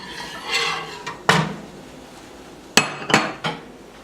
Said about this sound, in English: I'm gonna take the starter and mix it